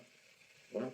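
A recorded jaguar call, one short rough grunting burst near the end of a second, rising out of faint background hiss.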